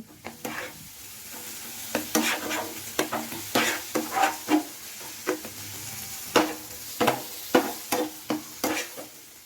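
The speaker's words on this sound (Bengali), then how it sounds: "আবারও মশলাটা খুব ভালো করে নেড়ে চেড়ে কষিয়ে নিচ্ছি" Spiced masala with chopped tomato stirred and fried in a pan, a close, sharp run of scraping spatula strokes in an uneven rhythm over a low, constant sizzle, with no voices.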